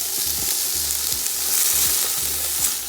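Mixed fried rice frying in a hot pan, a loud, close, continuous sizzle with rhythmic scraping and tossing strokes repeating about every half second.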